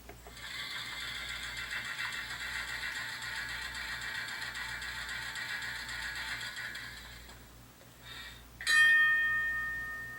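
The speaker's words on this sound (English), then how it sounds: "The only real sound from a car when it's sitting still is the air compressor" An HO scale Bowser New Orleans streetcar model's onboard air compressor sound hums with a steady, pulsing mechanical drone for several seconds, then fades, followed by a bright bell-like ding.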